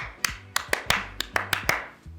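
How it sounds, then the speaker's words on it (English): A film crew claps in unison on set, a tight series of sharp double hand claps with short pauses, crisp and close with no talking. "everyone will do the double clap"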